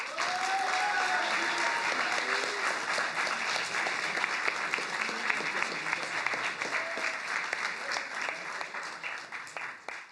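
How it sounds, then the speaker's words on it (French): Dense applause from an event audience celebrating handmade trophies at a festival awards ceremony, steady and full throughout with no voices on top. "je pense qu'on peut tous l'applaudir."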